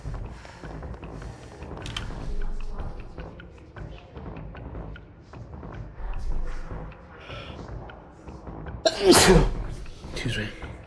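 A single sharp sneeze bursts out loudly near the end, standing clear above ongoing conversation and background murmur in a livestream setting.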